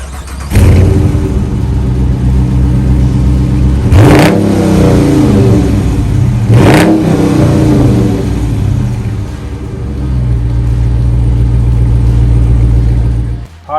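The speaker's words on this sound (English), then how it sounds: "finished up with a beautiful dual exhaust." A 2021 Dodge Charger Daytona with dual exhaust starts up close by. It settles into a deep idle, then gives two sharp revs that surge and fall back before a rumbling idle returns.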